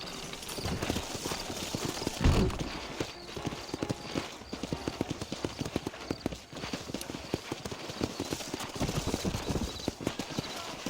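Horse hooves clip-clopping steadily through Red Dead Redemption, a continuous rhythmic trot with occasional louder thumps, heard close and fairly loud over faint game ambience.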